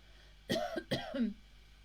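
Two quick, throaty coughs close to the mic, one right after the other, followed by a brief rasp, in an otherwise quiet room.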